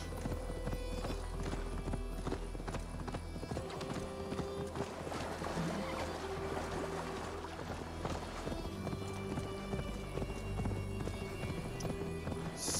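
Hooves clip-clop at a steady gallop as a horse is ridden in the video game Assassin's Creed Valhalla, a quick rhythmic patter under a low droning game score and ambient hum.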